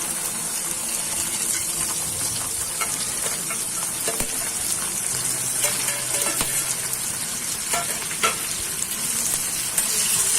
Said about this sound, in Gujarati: આપણું જીરું ફૂટી ગયું છે, આપણે વઘાર કરીશું। ભીંડો નાખીશું પહેલા